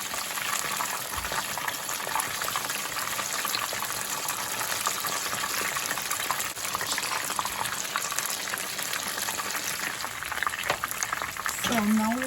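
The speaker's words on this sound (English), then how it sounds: "So now we're going to turn these over onto the other side, just to let them fry as well." Buffalo chicken wings sizzle and bubble steadily in hot oil after being turned over, a continuous close frying hiss with a faint clink near the end.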